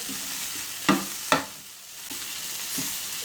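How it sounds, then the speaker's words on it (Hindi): Chicken roll filling cooking on a stove, a steady soft sizzle with two sharp scraping stir strokes near the start and a few lighter ones after, close and alone. "इसको 1 से 2 मिनट तक हम इसको चूल्हे पे पकाएंगे"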